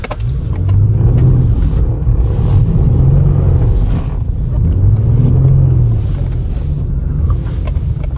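A Kia Stinger drives and slides sideways through snow, with a steady, loud, continuous rumble of engine and tire noise carrying wind buffeting throughout.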